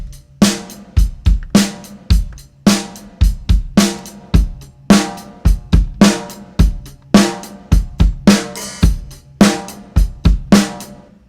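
A rock drum kit is sent through parallel drum distortion, giving a steady mid-tempo groove of punchy kicks and crunchy, gritty snare hits. Each hit rings with extended length, loud and close with no voices.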